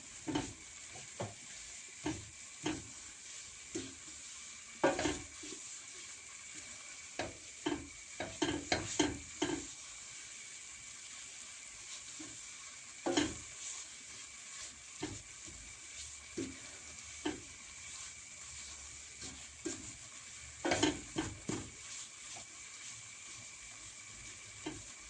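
Semolina halva stirred and roasted in a pan, a quiet steady sizzle broken by repeated spoon scrapes and taps at irregular intervals, continuing alone without speech.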